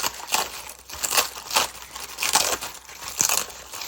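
Embossed paper die cuts peeled away from clinging press and seal plastic wrap, giving several soft crinkly tearing bursts in a steady rhythm, close and fairly quiet with no talk.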